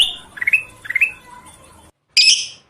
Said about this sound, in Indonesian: Ini burung kutilang emas.